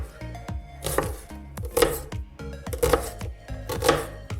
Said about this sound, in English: Basically, all you need to do is cut all the veggies into small pieces.